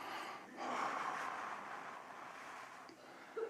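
During a guided meditation, one slow, soft breath is drawn in and let out, a faint, airy sound close to the microphone, with a brief puff at the end.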